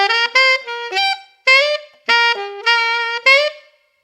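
A saxophone plays a short blues phrase built from the major scale, each note muffled by half-tonguing: about eight clear, separated notes in a lively, bouncing rhythm, close and solo.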